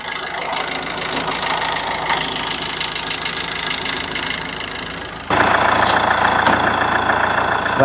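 A diesel vehicle engine runs steadily at idle with a low knocking rumble, then grows louder and brighter partway through as it revs up, close by.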